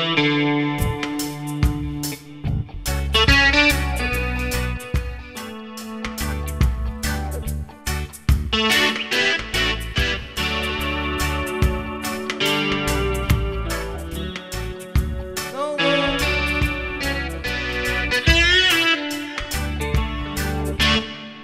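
A Yamaha Tyros 5 keyboard plays a distorted guitar voice through its DSP effects, loud and continuous with chorus and echo coloring, riffing in a rock lead style with no speech.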